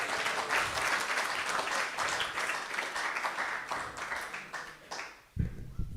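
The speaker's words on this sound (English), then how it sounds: "So let's give a round of applause for Geeta Mataji for a wonderful class." Audience applause after a spiritual class in a Krishna consciousness gathering: dense, steady clapping from a room full of people that thins out and stops near the end, followed by a brief low thump.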